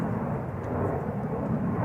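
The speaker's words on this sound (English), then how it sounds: "the next airplane coming our way is a KLM 737-700" KLM Boeing 737-700 jet taking off from Schiphol, a distant low rumbling roar, steady and fairly faint, with no voices.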